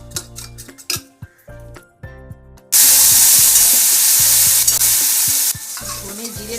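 Cumin-coriander paste mixed in water poured into a hot pan for soyabean, potato and pointed gourd dalna, setting off a loud, steady sizzle that lasts about three seconds after some clinking and stirring.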